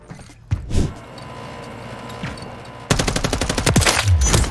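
Gunfire in Call of Duty: Modern Warfare 3 during a one-on-one match. A loud, rapid automatic burst of evenly spaced shots follows a few isolated thumps and clanks, with no talking.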